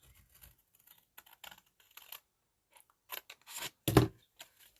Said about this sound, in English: on both sides we're going to cut to the score line.